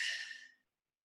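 A single breathy exhale during a Pilates lift, a soft airy sigh lasting about half a second, close and clear, then quiet.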